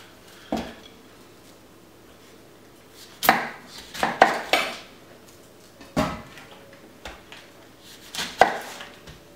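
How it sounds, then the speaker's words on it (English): A knife chops through the bottoms of artichokes on a cutting board in several sharp, separate cuts at an uneven pace, close and fairly loud, with no talking. "Just cut the bottoms off the artichokes."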